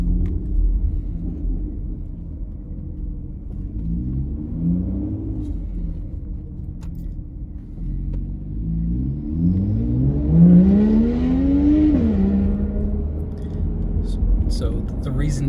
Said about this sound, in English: reason you heard the car tear off up there